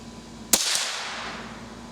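One sharp, close .22 rimfire rifle crack from a CCI Stinger round fired over a chronograph, followed by a short fading ring in otherwise quiet surroundings.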